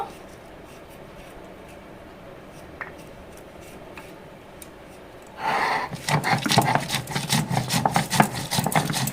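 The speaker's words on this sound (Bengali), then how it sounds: "লঙ্কাটাকে আমি মিহি করে বেটে নেব।" Chili is ground on a traditional grinding stone, with a steady rough rasping scrape that begins suddenly partway through and continues close and loud in rhythmic strokes.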